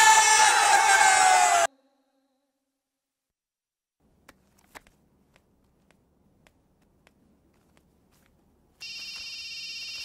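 A telephone rings loudly with an electronic tone, stops into near silence broken by a few faint clicks, then starts ringing again near the end.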